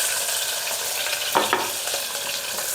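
Onions and curry leaves fry in hot oil for a ridge gourd palya, giving a steady close sizzle with a couple of soft stirring scrapes near the middle and no voices.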